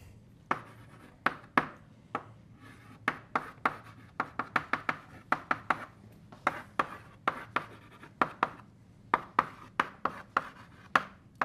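Chalk taps and scratches quickly across a board during a physics lecture, in dense bursts of close, crisp strokes with short pauses between them and no talking.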